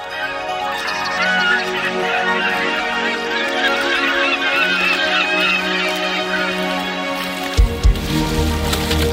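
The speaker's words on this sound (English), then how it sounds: "To observe these colorful water birds in their natural surroundings is a special treat, with birds constantly taking off and landing." Flocks of flamingos at Lake Bogoria, a dense chorus of honking and chattering calls from many birds near and far, with a few sharp thumps and splashes near the end.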